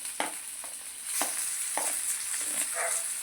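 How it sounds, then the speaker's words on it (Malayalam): Sliced onions are added to hot oil in a pan. They give a close, crackling sizzle broken by the scrape and clack of stirring, with no voices. "ഇത് എണ്ണ ഒന്ന് ചൂടായി കഴിയുമ്പോൾ നമ്മൾ എടുത്ത് വെച്ച സവാള ഇട്ട് കൊടുക്കുക കേട്ടോ"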